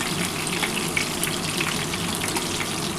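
Chicken kebabs frying in oil over a low gas flame make a dense, even crackling sizzle close by, unbroken and without speech throughout.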